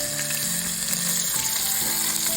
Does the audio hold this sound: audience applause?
no